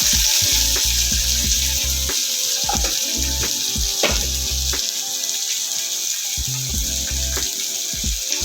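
Tomatoes and two green chillies hit a hot pan of frying onion and garlic for a Bombay duck curry (lote macher jhal), giving a steady close sizzle broken by irregular clanks of a spoon stirring against the pan.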